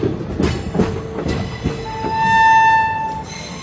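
The Hate Bazare Express sleeper train, running from Saharsa toward Sealdah in Bihar, rumbles and clatters near Katihar. A few sharp knocks are followed by a long, rising horn blast that fades out.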